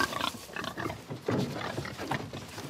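Pigs on a Breton livestock farm grunting and oinking in several short, uneven bursts, close by and moderately loud, one animal's grunts overlapping another's.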